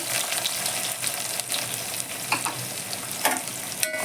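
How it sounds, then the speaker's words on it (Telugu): Mustard seeds, cumin and a cup of onions frying in hot oil, a loud dense sizzle close up with crackling pops and a few sharp stirring scrapes. "ఆయిల్ వేడి అయిపోయింది. మంచిగా ఆవాలు, జీలకర్ర, ఉల్లిపాయలు 1 కప్పు."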